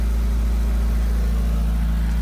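A car engine runs steadily at a low rumble, close by, while a heavily cambered car that has just had a new axle and throttle cable fitted is moved, with no talk.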